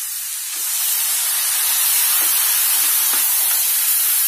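Potatoes, cauliflower, peas and tomatoes hit a hot pan for pav bhaji and set off a loud, steady sizzle that swells slightly after the first half-second and holds, with faint clicks of stirring.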